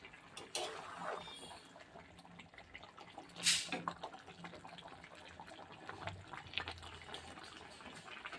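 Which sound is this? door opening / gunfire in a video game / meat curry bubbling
meat curry bubbling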